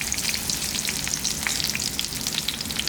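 Breaded steak (bistec empanizado) frying in a pan, a continuous bright sizzle with dense crackling pops throughout, loud and close with no voices.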